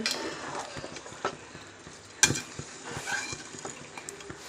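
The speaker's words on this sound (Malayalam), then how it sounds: "നമുക്കിത് നന്നായിട്ട് മിക്സ് ചെയ്ത് കൊടുക്കാം കേട്ടോ" Biryani being stirred and mixed in a pan, with soft scraping, light clinks of a spoon against metal and one sharper knock, close and quiet, no talk.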